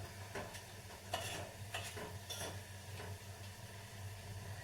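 Oil bubbles steadily in a pan with carrot and beetroot, a soft continuous hiss and sizzle heard close and quiet, with faint stirring clicks.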